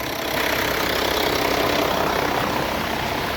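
Engine driving a water pump for watering palm trees runs at a constant, loud, steady drone with an even rumble throughout, with no talking.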